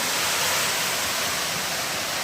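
Irrigation water pours steadily into the beds of a peanut field, a continuous broadband rushing flow that stays close and even with no pauses or voices.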